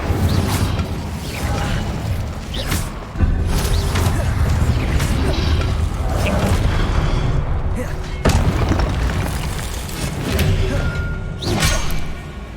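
Spell blasts from Confringo and Incendio in the Hogwarts Legacy video game, a dense run of booming, whooshing magic impacts and mechanical clatter over a constant game soundscape, with a sharp loud burst around the midpoint.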